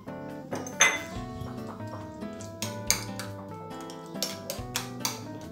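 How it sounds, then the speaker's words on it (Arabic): Cheese being mixed with egg yolk in a bowl, a utensil clinking and tapping against the bowl's side in uneven strokes with ringing metallic tones, close and fairly quiet. "عندي فرماجه هانتوما غادي نمسها مع صفر بيضه"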